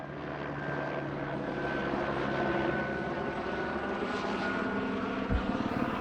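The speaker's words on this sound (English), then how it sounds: "Helicopters flying over everywhere." A steady, droning aircraft rumble with a faint rotor-like throb holds throughout, sounding like helicopters passing overhead at a moderate distance, with no talking, over Wet'suwet'en territory.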